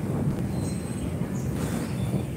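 Steady low rumble of thunder during rainfall, a continuous broadband roar that stays constant in level with no distinct claps, heard alone without any talking.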